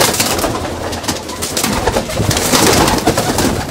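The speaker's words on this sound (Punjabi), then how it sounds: "ਇਹ ਆਪਣੇ ਫੇਵਰਟ ਕਬੂਤਰ ਹੈ" Fauji breed pigeons perched on a loft umbrella coo repeatedly in overlapping, throaty rolls, loud and close with no talking.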